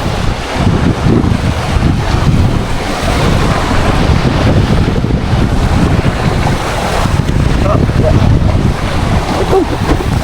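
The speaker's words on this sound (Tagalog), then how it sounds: "Lakas dito guys ng alon sa may kabila" Strong sea waves crash and churn by an island, a loud continuous rumble of surf mixed with gusty wind buffeting the microphone, with no voices.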